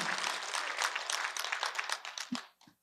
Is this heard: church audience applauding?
yes